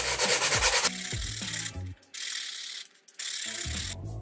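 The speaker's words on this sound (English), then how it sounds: "I'm going to use my sandpaper and kind of sand around this front curve" Sandpaper rubs around the curved front piece of a DIY RC airboat build in quick rhythmic strokes, some continuous and some in short bursts, with brief pauses in between.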